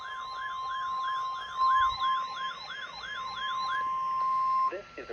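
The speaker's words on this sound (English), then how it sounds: "This is a weekly test of the NOAA Weather Radio all-hazard warning device for station WXK97 in Sudlersville, Maryland." A NOAA Weather Radio weekly all-hazard warning test tone for station WXK97 in Sudlersville, Maryland, sounds as a loud, steady continuous tone, overlapped by a rising-and-falling warbling siren, before cutting off near the end.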